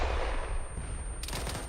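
Rocket launcher fired by soldiers on an infantry training exercise, a loud close blast followed by rolling rumble and a sharp burst of noise near the end, with no speech over it.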